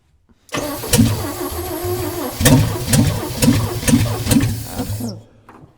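A 1965 Chevy engine cranks loud and close after a brief silence, with a rhythmic chugging starter pulse and sharp repeated bursts as it tries to fire, then cuts off abruptly.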